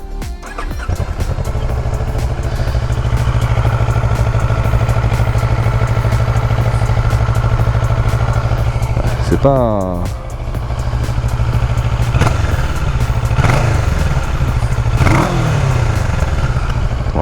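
A 2014 Kawasaki ER6N motorcycle restricted to A2 runs at a steady idle, with a couple of brief revs partway through, close and continuous, with a few spoken words.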